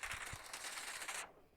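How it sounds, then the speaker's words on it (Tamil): An AKM rifle fires in the BGMI mobile shooter game, a rapid burst of automatic shots that cuts off abruptly, faint and alone. "இந்த வாட்டி இந்த துப்பாக்கி எடுத்துகிட்டு போவோம், ஏகேஎம்னு நினைக்கிறேன்."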